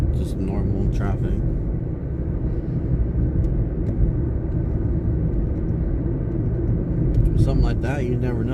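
Ordinary road traffic rumbles past at night as a steady low drone with a few brighter swells of passing vehicles, moderately loud and continuous throughout.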